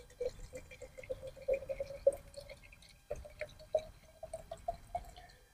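Cold water over a bunch of ice trickles into a canteen cup outdoors on a hot day. Close, bubbly gurgles and drips come in uneven bursts, with a brief pause partway through.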